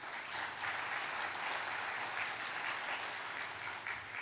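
A congregation at a church sermon applauding, a steady, even wash of many hands clapping at a moderate distance, unbroken for several seconds with no voices over it.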